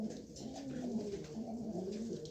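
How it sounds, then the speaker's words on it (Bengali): A pair of pigeons coo in a low, continuous, rolling murmur, soft and close against a constant hum. "খুব সুন্দর 1 জোড়া কবুতর"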